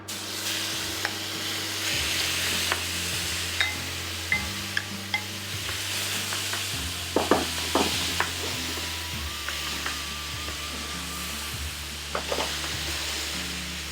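Venison meat sizzles steadily in a hot pan with vegetable and animal fat, a continuous broadband crackle punctuated by occasional sharp pops and light utensil scrapes, close and loud with no talking.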